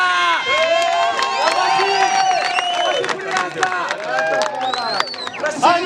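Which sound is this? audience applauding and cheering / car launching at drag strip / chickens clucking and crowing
audience applauding and cheering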